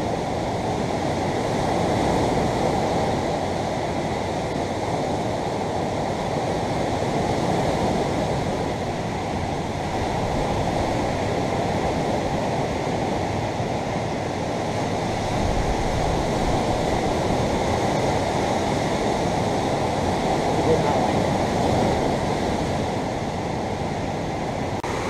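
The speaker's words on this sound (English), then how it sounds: "I guess that was a pretty bad idea with waves like this" Ocean surf crashes steadily along a shoreline for the whole stretch, a dense continuous roar with wind buffeting the microphone and no voices.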